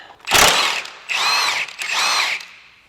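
Power drill whirring in three loud bursts as it spins out M10 bolts with 17mm heads on a 1990-98 Mitsubishi Minicab truck, the pitch rising and falling with each pull of the trigger.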